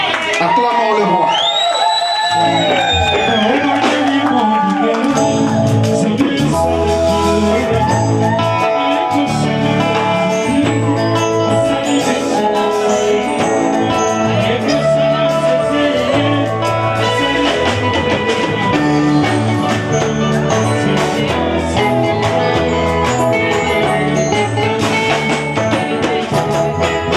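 Wedding guests cheering and acclaiming the couple at a French ceremony, a dense, loud crowd roar with shouts and whoops layered over music, sustained throughout.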